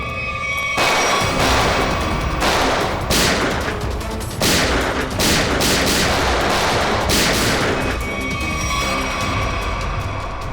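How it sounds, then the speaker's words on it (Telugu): Gunfire in a Telugu-dubbed TV crime drama episode, with loud, rapid bursts of shots and fusillades repeating across about ten seconds, dense and close, with no voices. "ఇంతసేపు తుపాకీలతో కాల్చి ఇప్పుడు సైలెంట్గా ఉన్నారు"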